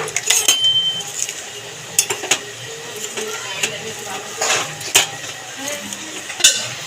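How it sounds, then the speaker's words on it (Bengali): Pumpkin greens stalks with a pinch of salt stirred in a pot, a steady scraping with clinks of a spoon against metal and a few sharper knocks, close and moderately loud, with no talk. "একটুখানি নুন দিয়ে দেবো দিয়ে একটু নাড়িয়ে নেবো"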